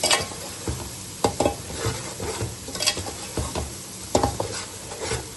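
Whole spices with black pepper, cumin and coriander being stirred and dry-roasted in a pan, with irregular spoon scrapes and taps over a steady faint sizzle.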